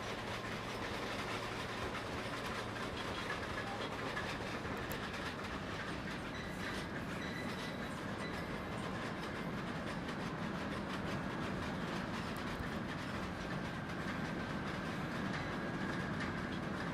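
Steady rumbling of a video-game train rolling along rails with faint rhythmic clacking, a continuous even drone with no speech.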